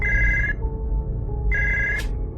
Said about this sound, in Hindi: ठीक 15 मिनट के बाद मेरा फोन फिर से बजा